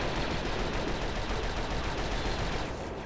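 Dense, continuous blaster and rifle gunfire from the Star Wars Republic Commando video game, sustained loud rapid fire filling the whole stretch with no pauses.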